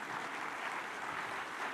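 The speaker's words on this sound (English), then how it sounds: "Another round of applause for His Excellency, please." Audience applause at the opening of the Connected Africa Summit 2024 at Uhuru Gardens, Nairobi: steady, even clapping from a large crowd, moderately distant and continuous without breaks.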